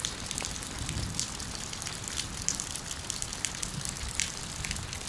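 Heavy rain pours steadily outside a house with heated-floor work under way, a dense, continuous close-up hiss with scattered drips and splashes and no voices.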